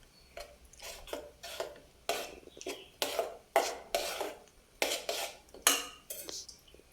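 A spoon stirs a fenugreek payasam mixture in a pot, giving a steady run of rhythmic scraping strokes against the metal, close and moderately loud, with no talk.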